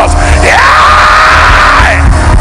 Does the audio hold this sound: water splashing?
no